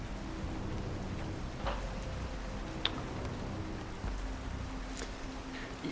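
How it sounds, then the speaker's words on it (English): Steady rain falls in the woods as a dense, even hiss, broken by a few sharp drip-like ticks and a low rumble underneath, with no voices. "the woods are silent except for the sounds of the rain"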